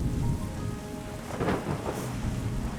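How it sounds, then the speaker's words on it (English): Rain and thunder in the video game Terra Nil: steady rainfall on surfaces with low rumbling thunder rolling through, continuous and fairly loud, no voices. "Let's wait for the rains to purify the land."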